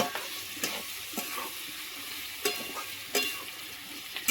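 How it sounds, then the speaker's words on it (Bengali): Cauliflower stalks stir-fry with chili powder in a pan, giving a soft continuous sizzle punctuated by a few sharp, spaced scrapes and taps of the spatula, with nobody speaking. "দিয়ে আমি একটু কপি ডাঁটার সঙ্গে 2 মিনিট নেড়ে চেড়ে নেব"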